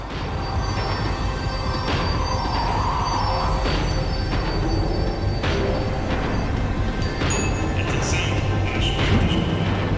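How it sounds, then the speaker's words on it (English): A tram in Max Payne 3 slows down, rumbling with low mechanical drone and intermittent metallic squeals, a continuous loud rail noise throughout with faint voices underneath. "The tram was slowing down, and I'd only just gotten on board."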